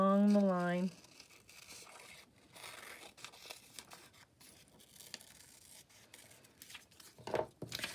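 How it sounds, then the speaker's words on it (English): Scissors snip along a drawn line in a paper craft project, giving a run of soft, close crinkly cuts and rustles after a brief bit of voice at the start. "I'm going to carefully cut along the line"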